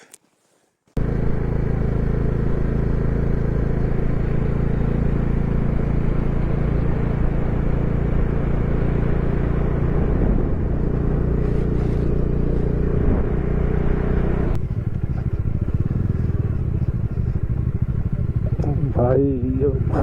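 A Bajaj Dominar 400 motorcycle riding off-road in Ladakh gives a loud, steady engine drone and rumble that starts abruptly and continues throughout, with a shift in tone partway and someone speaking over it.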